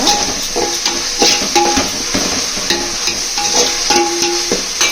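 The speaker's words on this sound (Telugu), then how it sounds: "అల్లం తెల్లగడ్డ పేస్ట్ వేసానండి. అల్లం తెల్లగడ్డ బాగా వేగినాక" Ginger garlic paste fries in hot oil for chicken biryani, giving a loud, steady close sizzle. A spoon stirs and scrapes against the pan at intervals.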